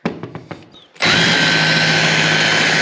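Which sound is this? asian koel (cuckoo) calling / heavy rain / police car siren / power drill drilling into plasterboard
power drill drilling into plasterboard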